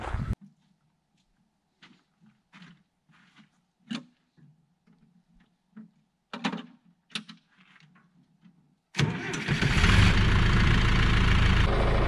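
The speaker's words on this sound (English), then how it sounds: "So let's get the backhoe started." A farm backhoe's diesel engine starts after a few faint clicks and quiet handling sounds, then settles into a loud, steady, close-up idle as it warms up.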